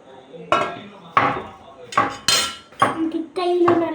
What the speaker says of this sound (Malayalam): ചേച്ചി കുനുകുനാന്ന് അരിയുന്ന നേരത്ത്